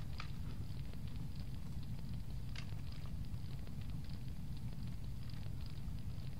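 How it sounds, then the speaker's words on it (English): Crackling fire in the video game Home, a steady low rumbling bed of flames with scattered faint pops and snaps throughout, no talk. "The fire crackles warmly."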